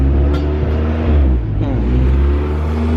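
A car engine idles unevenly with an idle control valve fault, a steady low rumble that holds throughout at close range with slight wavering.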